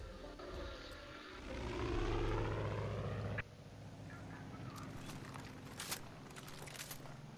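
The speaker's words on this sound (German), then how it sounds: "das Flugzeug nervt ein bisschen" Airplane flying in the video game Far Cry 5, a droning propeller engine that swells and passes over a few seconds before dropping away abruptly, leaving faint game ambience and scattered clicks.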